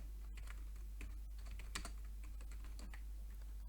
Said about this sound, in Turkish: Ad soyadınızı yazıp bir alt satıra geçin diyor.